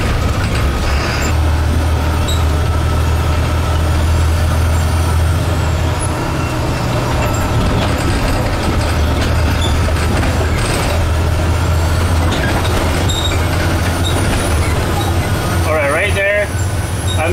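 A Freightliner school bus with an Allison transmission drives along at about 20 miles per hour, its engine droning steadily with road noise for the whole stretch, close and loud, with a brief rattle near the end.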